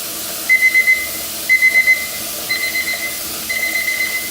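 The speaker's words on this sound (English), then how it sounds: "this thing's been blowing a steady stream of steam for 10 minutes now" Steady hiss of steam venting continuously from a pressure canner used for canning pork broth, with a timer beeping in quick groups of four at regular intervals over it.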